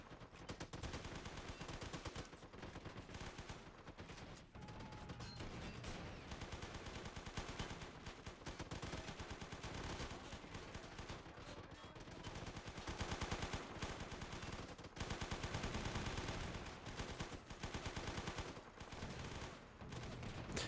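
Sustained, dense gunfire from a Ukrainian Civil War mod battle at Sloviansk, with rapid machine-gun bursts and overlapping shots rattling continuously for about twenty seconds, fairly distant and muffled, no talking.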